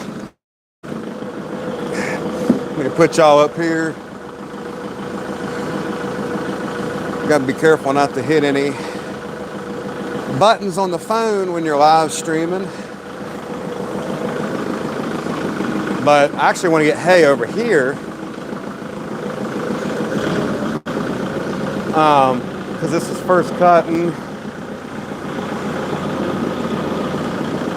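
A warmed-up farm tractor idles in a shed bay with a steady mid-low engine drone, while someone talks over it, close to the phone, with brief handling bumps.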